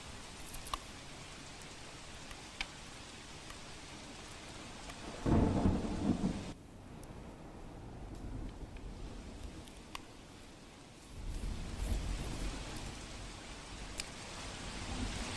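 Heavy monsoon rain falls over flooded Dwarka in Gujarat as a steady hiss, broken by two low rolling bursts of thunder, fairly faint overall with no voices.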